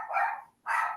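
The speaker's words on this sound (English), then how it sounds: "I apologize for the dog in the background" A dog gives two sharp barks in quick succession with a short gap between them, fairly close and heard alone.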